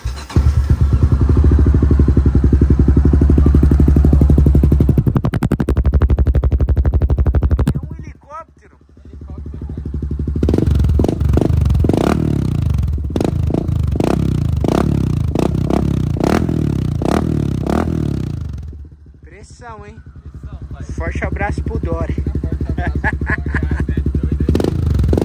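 A 2023 Honda CB300F Twister motorcycle fitted with a Dore exhaust runs loud and close, its engine droning steadily, dropping briefly, then returning with uneven revs while voices talk over it.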